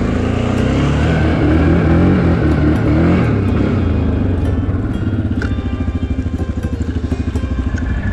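A CFMOTO X10 motorcycle engine running close by after starting, a loud, dense rumbling idle that shifts into a throbbing, pulsing beat in the second half, steady and without pauses.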